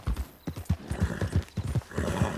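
A horse gallops in Red Dead Redemption 2 Online, with steady rapid hoofbeats thudding close and loud over outdoor ambience and a brief whinny-like tone.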